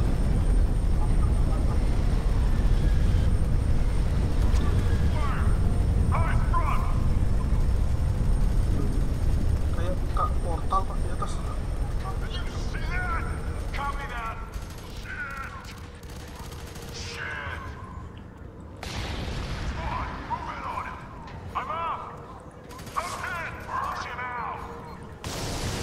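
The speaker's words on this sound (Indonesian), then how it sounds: "Ya, ledakan di langit. Helikopternya jatuh." Helicopter exploding in the sky and crashing in the video game F.E.A.R. 3, a loud rumbling blast and roar that slowly fades into scattered gunfire and clatter, with voices talking over it.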